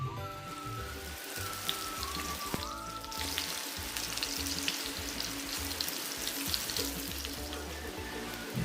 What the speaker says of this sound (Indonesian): Setelah panas kita masukin pempeknya dan kita goreng hingga